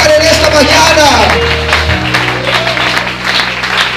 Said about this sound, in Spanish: ¿Por qué no le das una aplauso a Él?